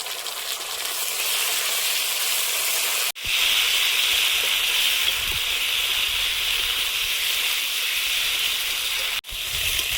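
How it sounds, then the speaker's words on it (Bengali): Potatoes frying in oil with ground cumin, coriander, ginger and green chilli give a steady, loud sizzling hiss that runs on without pause, broken only by two brief cuts. "মশলার সঙ্গে আলুটা ভেজে নিয়েছি, তেল ছেড়েছে"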